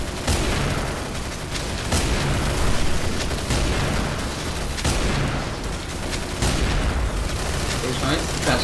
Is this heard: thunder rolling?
no